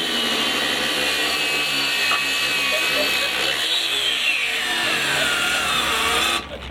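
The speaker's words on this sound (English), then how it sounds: "We'll have a turn each on each grinder at stalling, and we're just going to turn them on, push them down as hard as we can" Makita angle grinders are pressed down hard in a stall test, giving one loud, continuous high whine with a slowly drifting pitch that cuts off abruptly at the end.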